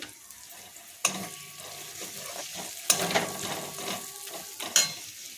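Chili powder and other spices frying in a pan for paneer bharta make a continuous, close sizzle, with stirring scrapes and a few sharp clanks of a spoon against the pan.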